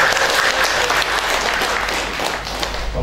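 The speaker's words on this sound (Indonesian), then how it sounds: "Tepuk tangan sekali lagi karena kecakapannya" A crowd claps continuously and fairly loudly at an Islamic lecture event, producing a steady, unbroken wash of applause throughout.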